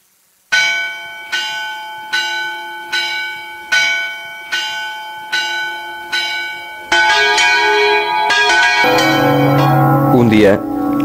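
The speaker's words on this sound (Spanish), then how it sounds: "Un día, la campana de la iglesia repicó a muerto." A church bell tolling a death knell, loud slow strikes spaced about a second apart, each ringing out and decaying before the next, then joined by denser overlapping bell clangs toward the end.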